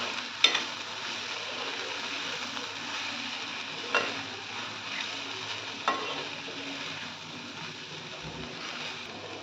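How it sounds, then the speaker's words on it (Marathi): Peanut powder is stirred into methi bhaji in a pan, a quiet sizzle running under a few spaced spoon scrapes and taps against the pan. "शेंगदाण्याचं कूट गरजेनुसार लागेल तितकं घालायचं आणि हे मिक्स करून घेऊया"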